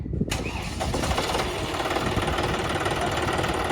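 A tractor engine catches after choking, a sharp start giving way to a loud, continuous rough diesel rumble with slight knocking that holds steady at close range.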